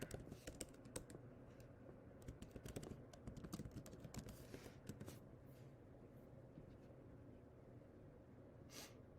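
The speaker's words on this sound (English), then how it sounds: "I'm going to type in the listing agent" Steady typing on a computer keyboard, quick uneven key clicks close by and fairly quiet, continuing throughout with a few louder taps.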